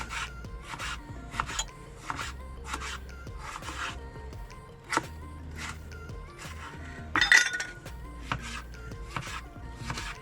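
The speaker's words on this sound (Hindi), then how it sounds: "एक जो है टमाटर काटेंगे" Tomatoes being sliced with a knife while preparing Pakistani daal anda, heard as a series of close, crisp cutting taps and scraping rubs on a board, with occasional light clinks of utensils and no talking.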